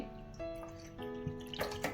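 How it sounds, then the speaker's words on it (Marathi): A bowl of water poured out for a gram-flour batter, quiet trickling and dripping close by with a few light splashes near the end, no talk. "1 वाटी पाणी घेते"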